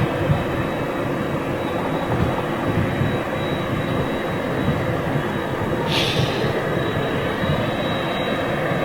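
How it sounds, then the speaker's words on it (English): An Airbus A350 and an American Airlines 767 taxi at Manchester International Airport, giving a steady, loud broadband jet engine rumble and whine that continues throughout, with a brief hissing swell partway through and no voices. "We've got an A350 taxiing towards us, as well as that 767 with American Airlines that's just pushed back"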